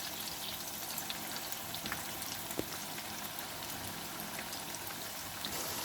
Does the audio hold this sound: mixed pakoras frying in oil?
yes